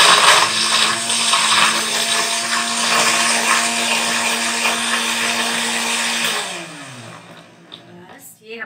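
Kitchen blender mixing a banana smoothie with ice cubes: a loud, close, continuous motor whir with grinding churn, steady for several seconds before the pitch drops as it winds down and stops.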